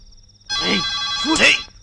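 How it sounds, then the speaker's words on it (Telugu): A telephone rings with a warbling electronic trill, close and loud, over a brief burst of speech-like tones, lasting about a second. "ఫోన్ రింగ్ అవుతుందిరా."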